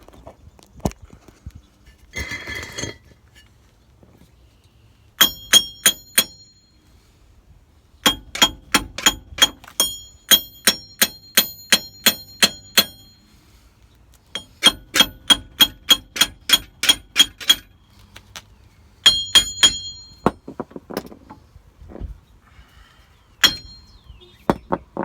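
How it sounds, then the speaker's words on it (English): Hammer blows ring out on a Jeep Wrangler JK front wheel bearing hub as it is tapped loose, with bursts of bright metallic clinks in quick rhythmic runs and short pauses, close and loud. "we're gonna tap it out with the persuader"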